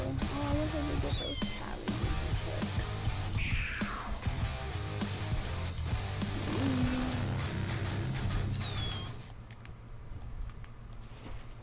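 Repeated cat meows from Kit's Go Cat Go emote in a video game, short mewing calls scattered through busy game sounds and a voice talking over them.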